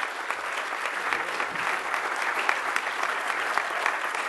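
An audience at an award ceremony gives sustained, even applause, a dense crackle of many clapping hands throughout, moderately loud and without pauses.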